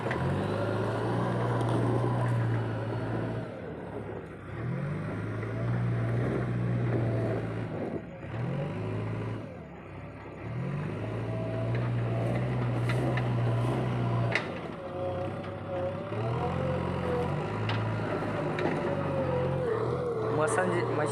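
A JCB machine working in loose sand, its engine labouring in a loud, low drone that surges and dips repeatedly, with people talking over it.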